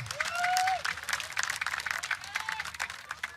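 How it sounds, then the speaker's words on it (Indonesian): An audience at a sholawat religious gathering claps in a dense, lively burst of applause, moderately close, with scattered voices and a brief whistle-like tone above it. "Hadirin boleh berikan aplaus yang meriah"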